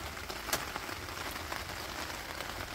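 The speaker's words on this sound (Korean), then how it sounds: "와, 빗소리" Steady rain falls around a campsite with a pitched tent, a continuous even patter of drops close by with a few slightly louder taps.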